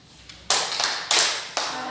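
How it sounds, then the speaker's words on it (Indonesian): Classroom students clapping in unison for group 1, a few sharp synchronized claps in a patterned rhythm, separated by short pauses and growing louder after the first faint one. "kita tepuk salut untuk"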